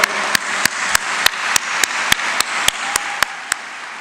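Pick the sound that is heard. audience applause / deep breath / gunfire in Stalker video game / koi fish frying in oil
audience applause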